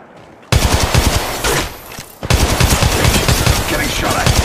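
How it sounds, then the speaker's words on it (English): Loud automatic gunfire rattles in rapid bursts in Apex Legends Mobile, close and harsh, with a brief lull in the middle before the shooting resumes. "The enemies are shooting at me."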